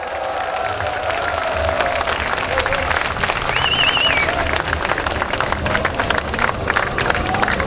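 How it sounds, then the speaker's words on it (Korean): A crowd at an outdoor political candlelight rally applauds and cheers for its party leaders, a dense continuous clapping with some crowd noise and a whistle partway through. "그리고 우리 김한길 대표, 전병훈 대표에게 큰 박수 부탁드리겠습니다."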